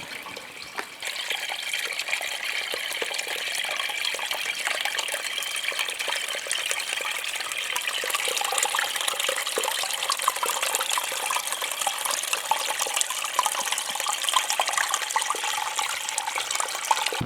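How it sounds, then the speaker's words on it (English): Steady rushing water of a small waterfall pours continuously inside the abandoned Nehalem Divide Tunnel in Oregon, a close, hissing flow echoing in the enclosed space. "It's kind of a little waterfall making its way down."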